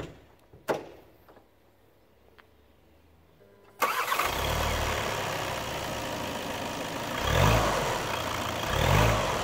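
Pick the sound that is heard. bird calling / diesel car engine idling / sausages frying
diesel car engine idling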